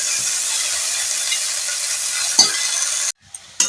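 Bottle gourd leaves fry in a hot pan as they are stirred, a steady bright sizzle with a couple of utensil scrapes, cutting off abruptly near the end before a brief return.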